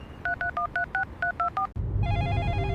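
A telephone number is tapped out as a quick series of eight touch-tone beeps, evenly spaced and clear, followed by a steady ringing tone on the line.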